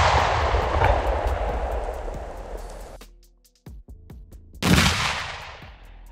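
A 3D printed explosive shaped charge detonates in a loud, sustained outdoor blast with rumbling roar, then a short near-silent gap before a second sharp burst of noise that trails off.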